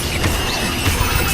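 Confringo spell cast in Hogwarts Legacy, a harsh crashing fiery blast with a broad noisy roar and a couple of sharper impacts within a short, loud burst.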